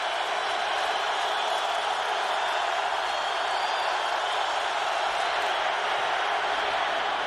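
A football stadium crowd at an Eagles vs Cowboys NFL game cheering in a broad, steady, continuous roar with no distinct individual voices.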